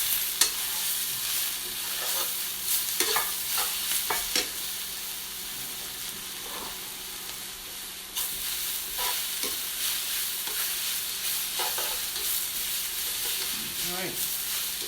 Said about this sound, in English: So now we're just taking the stuff that's on the bottom, moving it to the top, and we're wilting it down.